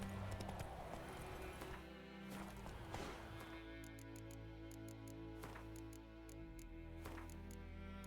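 Roach the horse galloping in The Witcher 3, rhythmic clip-clop hoofbeats driving steadily under game music and ambient effects, moderately close.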